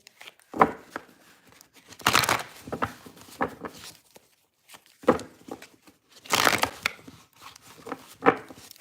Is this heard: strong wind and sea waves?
no